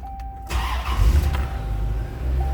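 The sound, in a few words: 1993 Chevrolet Corvette 350 V8 engine starting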